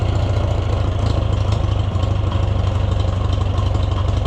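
Oliver 1250 tractor engine idles after a fuel system cleaning, a loud, steady low rumble with an even pulsing beat running throughout, close to the machine.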